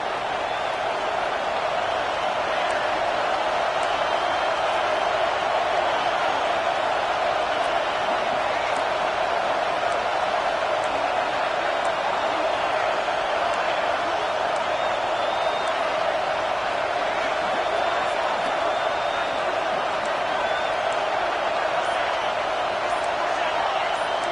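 A steady, dense roar from a football stadium crowd at a Miami versus Oregon game holds at an even loudness throughout, a wide wash of noise with no breaks.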